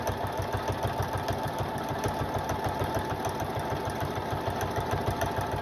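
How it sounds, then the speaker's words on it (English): A sewing machine runs steadily while stitching a buttonhole with the presser foot held down, its needle pounding in a fast, even mechanical rhythm close by with a constant motor hum. "keep your presser foot all the way down, and it'll make the button hole the size it needs to be"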